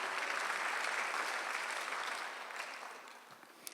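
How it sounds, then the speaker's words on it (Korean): A church congregation at a Sunday worship service bursts into steady, dense applause that holds strong, then gradually thins and fades toward the end. "박수로 하나 둘 셋."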